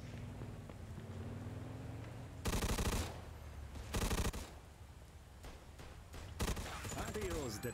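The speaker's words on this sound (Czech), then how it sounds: "Slyším někde střílení, ale já nevím odkud to je." Gunfire in the game Mafia II Definitive Edition, Jimmy's Vendetta DLC: three sharp, loud bursts of automatic fire a second or two apart over a steady background, with people talking at times.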